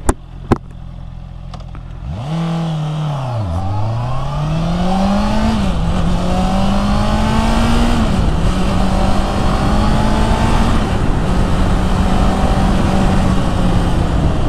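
A 2022 Honda CBR 650R motorcycle pulls away and accelerates while riding, its four-cylinder engine climbing in loud, rising sweeps through the gears, with a close, sustained roar and road noise.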